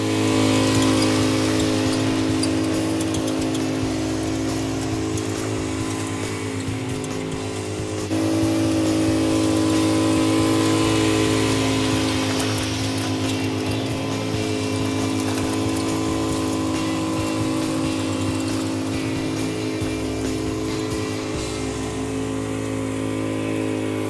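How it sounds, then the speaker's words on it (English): A dethatcher machine runs over a Bermuda grass lawn with a loud, continuous engine drone and a steady mechanical hum, shifting slightly in load partway through, with no talk. "I've now ran the dethatcher over the lawn"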